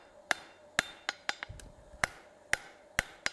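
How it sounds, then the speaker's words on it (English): Hammer blows fall half on, half off the anvil's hardy hole while forging a toilet paper holder: about nine sharp, ringing metallic strikes at an uneven pace, close and clear against a quiet room. "half on, half off blows over the hardy hole"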